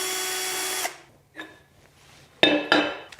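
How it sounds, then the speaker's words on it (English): A power driver backs out the single T30 Torx screw holding the crank handle on a DeWalt DW735 planer, a steady whirring run that cuts off, followed by a brief second burst and two sharper bursts near the end. "Remove the crank handle. There's just 1 T30 screw holding that in place."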